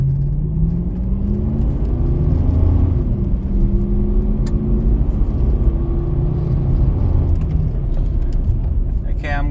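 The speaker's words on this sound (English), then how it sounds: "you rev the car in first gear, start driving, and just give it a good full throttle" A car engine revs hard at full throttle in first gear, a steady loud drone with rising engine harmonics that climb and hold, heard from inside the cabin.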